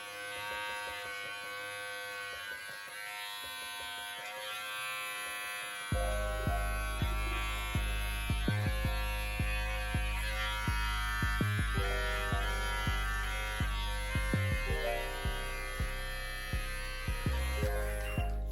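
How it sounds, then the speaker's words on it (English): A cordless Brio beard trimmer buzzes alone with steady electric hum. It starts quieter, then grows louder and fuller after about six seconds, with small rhythmic dips as it moves through the beard. "So I really like the cordless trimmers."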